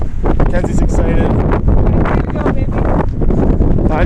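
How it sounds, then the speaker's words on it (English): Strong gusting wind on a mountain hiking trail near Banff roars and buffets a microphone continuously, loud and close, with muffled voices partly buried in the noise. "Oh, it's already less windy."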